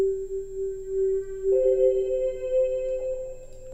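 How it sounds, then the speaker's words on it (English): A soft synth pad layer made with Kilohearts Snapheap holds a steady sustained tone, then a second brighter note joins partway through, quiet and smooth with no percussion. "And then the second pad layer sounds like this."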